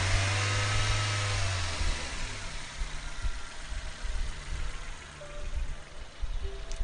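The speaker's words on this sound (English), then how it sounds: "And just revving the vehicle gently." A Nissan Almera N16 QG15DE engine revved gently, a steady mid-pitched drone that rises slightly and then settles back toward idle, heard up close with no voices.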